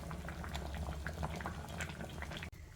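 A pot of mixed sprouted legume broth bubbles steadily at a full boil, a continuous dense popping and gurgling at low volume.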